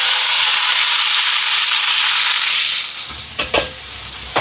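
Fennel, curry leaves, green chilli, garlic and onion fry in hot oil with a loud, dense, steady sizzle that eases after a few seconds, followed by a couple of close stirring scrapes.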